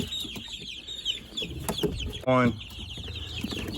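Young Rainbow Ranger chicks and chickens clucking and peeping close by during a count into a pen, with one louder squawk amid the chatter and a person talking softly nearby.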